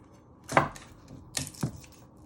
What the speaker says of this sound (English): Once you have got your 3 pieces of garlic, cloves, you first want to chop